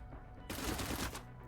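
A burst of rapid automatic gunfire in the Cyber Knights: Flashpoint tactical video game, a dense rattling volley lasting under a second, loud and alone.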